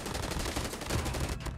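Rapid semi-automatic shotgun fire in an online shooter video game, dense overlapping blasts crowding the whole moment, loud and close with no talk over it.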